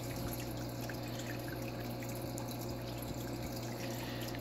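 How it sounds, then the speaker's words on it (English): An aquarium filter sends water down a rock in a red clawed crab tank, making a faint, continuous trickle with a low steady hum beneath it. "you see how the water is now flowing down the rock and flowing in front of where we can see rather than behind everything"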